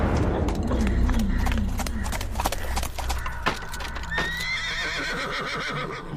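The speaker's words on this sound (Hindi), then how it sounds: "लुटेरों का सरदार अपने साथ 4 और लुटेरों को लेकर घोड़े दौड़ाता हुआ जेल के अंदर आया" Several horses galloping into a jail, carrying a robber chief and four robbers: loud, busy hoofbeats and whinnying over a dense background, with a sharp neigh near the end.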